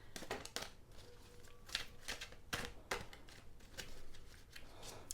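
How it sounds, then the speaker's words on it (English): Tarot cards being shuffled by hand give quiet, quick papery riffles and soft slaps in irregular bursts, faint and close with no voice over them. "I'm just going to continue the shuffling process"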